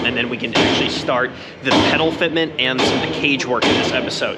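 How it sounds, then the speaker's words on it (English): Workers hammer on the metal body of a Renault Turbo 2 Group B rally car in a workshop, with repeated loud bangs and thuds heard beneath someone talking close by. "You can hear them banging away on it right now"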